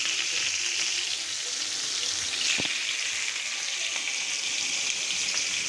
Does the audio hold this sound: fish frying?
yes